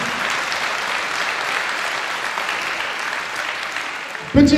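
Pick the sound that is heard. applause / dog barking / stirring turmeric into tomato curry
applause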